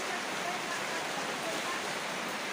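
Steady rain falls in a dense, even hiss that stays constant throughout, with no breaks or distinct drops standing out.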